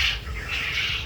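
A brief squawking call comes from a Japanese quail on a farm with 45-day-old laying birds. It is one short, near, fairly loud call with no voices.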